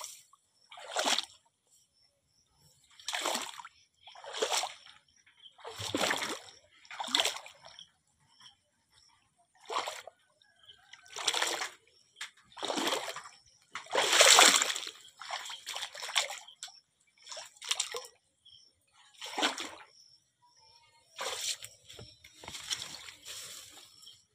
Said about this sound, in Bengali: এক হাঁটু জল, জল পেরিয়ে মোচা কাটতে যাচ্ছে।